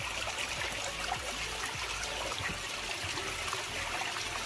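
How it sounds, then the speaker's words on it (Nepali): Water trickles and dribbles steadily at a village spring source, a continuous close-up burble at low volume with no voices. "ए पानी त ठुलो छ नि अलिकति आउट भएछ नि पानी"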